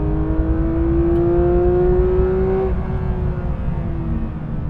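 A Porsche 911 GT3 with a naturally aspirated 4-litre flat-six engine revs hard on a track, a loud, close, steadily climbing howl that peaks and then drops sharply as the driver lifts off, settling into a lower drone.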